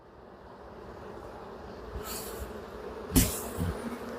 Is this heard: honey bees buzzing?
yes